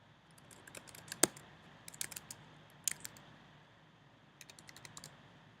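Typing on a computer keyboard to log in, a quiet, irregular patter of sharp key clicks with a few louder taps, close and alone in a hushed room.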